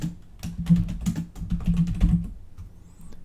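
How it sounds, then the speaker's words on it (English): Typing on a computer keyboard while filling in a messenger funnel form, a close, brisk run of key clicks that thins out and stops near the end. "Next thing we're going to do is we're going to type some buttons here"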